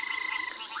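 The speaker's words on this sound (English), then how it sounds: "There's quite a droning" Red toads produce a steady, continuous droning chorus outdoors at sunrise, a dense buzzing hum heard from a short distance, brief and unbroken with no voices.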